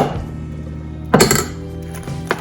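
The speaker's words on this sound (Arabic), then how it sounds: "هلا بدنا نخلطها ونضيف عليها كمان بس وحده" Baked ziti pasta is stirred in a dish, with a spoon scraping and clinking sharply against the side in a couple of loud knocks over a low kitchen hum.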